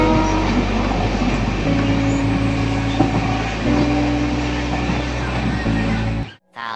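Passenger train travelling along a railway line toward Dibrugarh, heard from inside as a loud, steady low rumble and rattle of the carriage with a sustained hum, ending with a brief abrupt drop.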